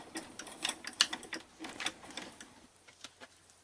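A die-cutting machine works through a card element, giving soft close clicking and ticking taps in an irregular rhythm that fades quieter toward the end.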